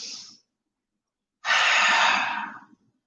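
Breathing during a twisting yoga pose: a short exhale trailing off, a pause of silence, then a longer, fuller audible breath, close and unaccompanied by talk.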